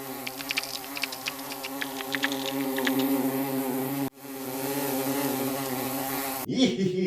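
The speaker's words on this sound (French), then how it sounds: "Hé, les guêpes!" Cartoon wasps buzzing in a steady, close drone with quivering overtones, a thin high chatter running through it; the buzz cuts out briefly near the midpoint, resumes, then ends in a short jumbled burst.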